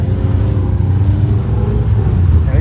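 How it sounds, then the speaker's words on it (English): A Suzuki Jimny with a 1.3 engine racing at an off-road dirt event, a steady loud engine rumble with low drone and revving, continuous throughout without talk. "I can hear the distinct sound of the Jimny."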